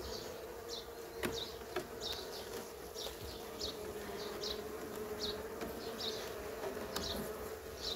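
A steady, close hum of honeybees buzzing around a hive being prepared for winter, with individual bees droning past and a few soft knocks.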